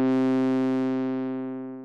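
A BASTL Pizza oscillator module in VCV Rack holds a sustained, buzzy sawtooth synthesizer tone, loud and alone, slowly fading over two seconds.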